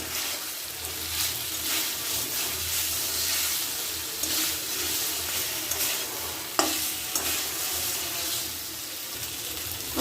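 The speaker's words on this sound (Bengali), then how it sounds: "কষিয়ে নেওয়ার সময় এভাবে নাড়তে থাকতে হবে তা না হলে মশলাগুলো পুড়ে যাবে" Spices frying in oil in a pan for a Bengali potol (pointed gourd) dish, stirred steadily: a continuous close sizzle with repeated scraping strokes and one sharper clack near the middle.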